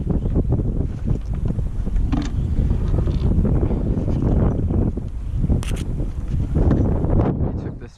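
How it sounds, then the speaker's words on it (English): Strong gusting wind buffets a solo kayak on a lagoon, a loud continuous low roar of wind noise against the microphone that rises and falls steadily throughout, with no clear talk over it. "The wind's super strong."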